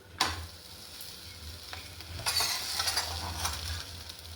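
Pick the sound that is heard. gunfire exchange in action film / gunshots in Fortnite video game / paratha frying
paratha frying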